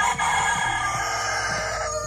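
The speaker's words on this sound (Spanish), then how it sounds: "¿Y saben por qué el gallo se levanta tan temprano, chicos? A las 4 horas, 5 horas ya está ahí a cantar." A rooster on a farm with hens gives a loud, close crow that rings out in a sustained, strained call over the whole stretch, alone with no talking.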